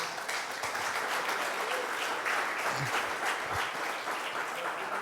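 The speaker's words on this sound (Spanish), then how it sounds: "Denle un aplauso al Señor" A Spanish-speaking congregation applauds the Lord after a reading of Psalm 91, a sustained even round of clapping from many people, moderately distant and unbroken by speech.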